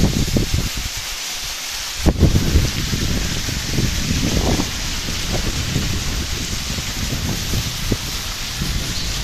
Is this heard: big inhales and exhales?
no